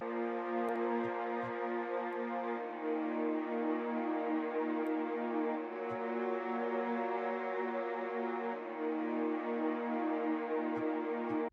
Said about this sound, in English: Hopping into the first melody, I opened up Xband and I got this sad format strings preset.